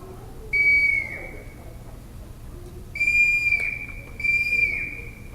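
A reedy Cherokee river cane whistle sounds three steady, held notes, each with a slight dip at its end, separated by short pauses, close and clear.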